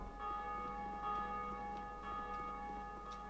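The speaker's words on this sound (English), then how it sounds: "Ring the bell." A bell rings in a video game, a faint steady tone with soft ticking pulses under it, quiet and alone.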